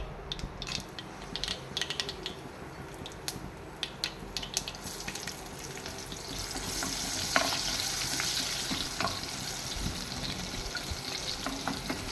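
Mustard seeds sputter and crackle in hot oil at the start of a brinjal theeyal, a dense continuous popping sizzle with brief sharp cracks and scraping stirs throughout.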